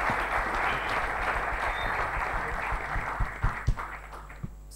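A crowd at a contest event in the Democratic Republic of Congo claps steadily, and a few louder, sharper claps or thumps stand out near the end.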